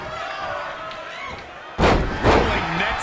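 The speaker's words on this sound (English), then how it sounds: "What a punch!" Heavy punch impacts land in a WWE 2K20 wrestling match in a gym arena, with two loud thuds arriving about half a second apart over crowd noise and game sound.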